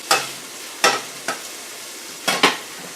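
A chunk of onion in olive oil in a pan sizzles under a faint steady hiss, broken by four or five sharp stirring scrapes at irregular intervals, close by with no voices.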